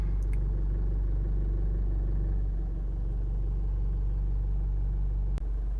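A Honda CR-V 2.2 i-DTEC EX 4x4 diesel engine idles steadily, a constant low rumble with an even hum and no revving, with a single faint click near the end.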